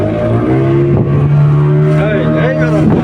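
A speedboat engine runs with a steady, loud droning hum close by, and voices talk faintly over it near the end.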